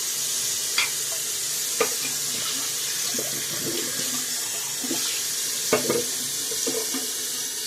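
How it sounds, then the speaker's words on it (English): Tap water runs steadily into a sink while a shaving brush is rinsed out under it, with a few soft clicks and splashes over the constant flow. "And now I'm going to rinse out my brush"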